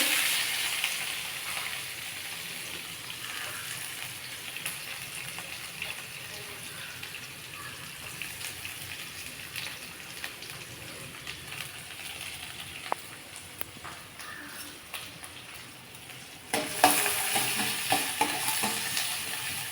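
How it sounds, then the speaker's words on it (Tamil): Onions frying with urad dal in a pan for bitter gourd thokku, a continuous sizzle under repeated scraping and stirring strokes, with a louder burst of hiss near the end. "வெங்காயத்தை வதக்கலாம் நல்லா வெங்காயம் வதங்கிடுச்சு"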